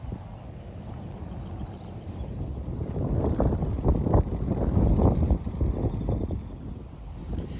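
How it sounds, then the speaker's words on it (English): Valley wind buffets the microphone on a Texas golf course, a rough low rushing roar that builds in gusts toward the middle and stays loud and close. "This is a classic example of the valley wind not doing what you want."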